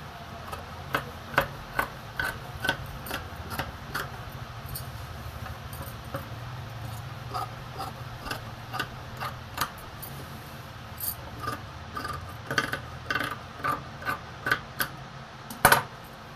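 Scissors cut through blouse fabric for a boat-neck design: a close, steady run of crisp snips and light clicks, some louder near the end, over a quiet room hum with no talking.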